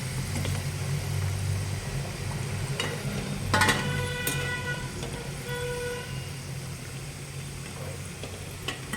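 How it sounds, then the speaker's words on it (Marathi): Churma dough balls (muthiya) frying in hot oil in a home kitchen, a steady soft sizzle throughout with occasional clinks and scrapes of a utensil, no talking. "आता असे सगळे मुठपुडे मी तळून घेते"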